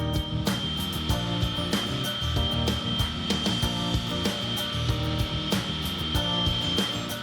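A power tool trims large concrete pavers to different widths in a Perth backyard, giving a loud, continuous grinding whine with rapid rattling pulses throughout, close up and without talk.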